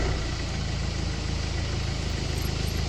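A Renault Twingo II engine idles in a cold, snowy setting, a steady close low rumble with even pulsing throughout and no voices.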